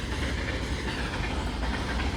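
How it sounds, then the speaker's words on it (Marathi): A train rolls past at a railway station, a steady, loud rumble with a rhythmic clickety-clack of wheels on rails and no voices. "आता कुठल्या मार्गे जाणार आहेत त्या मार्गे ही इंजिन बसवण्यात येतं आणि त्याच्यानंतर मग ही ट्रेन निघते."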